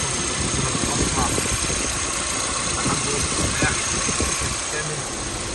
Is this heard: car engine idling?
yes